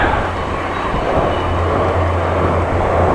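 An Arriva diesel-electric train in red livery passes near a rural road in Groningen, a steady loud low rumble with rolling wheel noise holding through the whole stretch.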